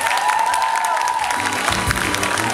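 Broad, dense clapping from a school audience welcoming a student team on a quiz show fills the clip, steady and fairly loud, with a brief tonal sweep fading early on.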